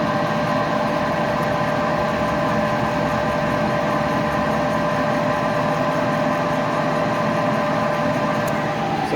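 A machine fitted with a repaired worm gear that is missing a tooth runs steadily once cranked up, producing a loud, continuous mechanical drone and hum at an even level, alone with no talking.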